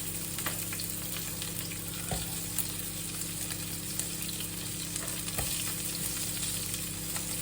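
Red peppers and red onion frying in a hot pan, a steady even sizzle throughout with a few faint clinks, moderately quiet and free of talk.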